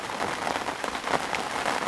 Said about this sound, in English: now it's started to absolutely pour down